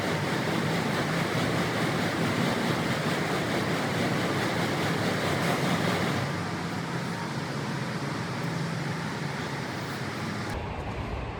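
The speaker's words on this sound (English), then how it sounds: "So I will start off in the assault bike and I'll explain as we go through the video." An assault bike's fan whirs in a loud, steady rushing drone during a workout, easing slightly partway through and then continuing without talk.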